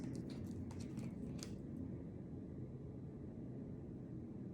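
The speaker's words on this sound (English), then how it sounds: "Sorry, that's a fighter jet." A low, steady fighter jet roar rumbles continuously overhead like distant thunder, with a few brief higher hisses early on.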